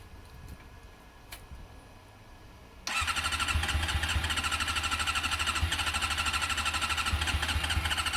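A motorcycle engine starts in the cold after a few quiet seconds of faint clicks, then settles into a steady, loud, close idle with an even rapid pulse.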